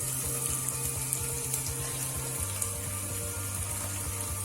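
Onions frying in a pan after prawns, a steady close sizzle of hot oil running without pause beneath a low, rhythmic pulsing hum, with no talk.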